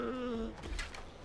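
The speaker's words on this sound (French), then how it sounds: "Des chèvres qui se font courser." Goats in the Far Cry Primal video game let out a short, loud, wavering bleat while being chased, followed by scuffling game noise and a faint second call at the end.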